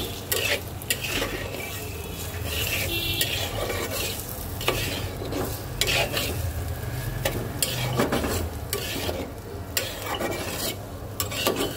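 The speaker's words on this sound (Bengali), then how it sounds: "এবার পেঁয়াজ, রসুন, চিংড়ি মাছ খুব সুন্দর করে একটু হালকা ভেজে নেব" Onion, garlic and prawns fry lightly in a pan for a Bengali dish of taro leaves with prawns, a steady close sizzle with repeated scraping and clinking of a spoon stirring against the pan throughout.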